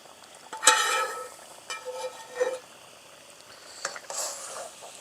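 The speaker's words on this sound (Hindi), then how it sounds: "प्याज और टमाटर कढ़ाई में थोड़ी देर पकाने के बाद अब इसके अंदर हमने ऑयल शामिल करना है।" Oil goes into a wok of onions and tomatoes, bringing a soft steady sizzle with a few scraping stirs of a spoon, close and fairly quiet with no talking.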